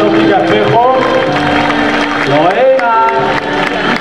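Audience applause and cheering at the Santa Fe de Moda 2024 fashion event, dense clapping from a crowd mixed with shouting voices and tonal calls over the top throughout.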